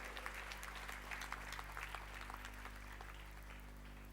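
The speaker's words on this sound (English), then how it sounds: "Can you have claps for her?" Steady applause from an audience at a university convocation ceremony as a gold medal is awarded, with clustered claps over a constant low electrical hum.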